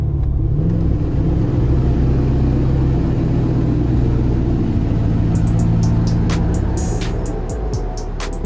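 A car on the road gives a steady, loud engine and road rumble throughout, a continuous low drone with no pauses.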